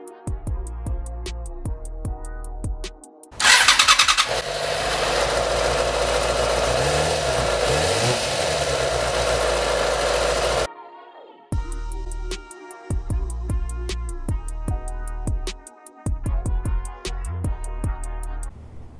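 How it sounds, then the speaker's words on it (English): A Yamaha FZ6 motorcycle engine starts up after a coolant flush and runs near the mic. A loud continuous stretch is flanked by steady, rhythmic engine running. "you can run the bike up to operating temperature with the radiator cap off"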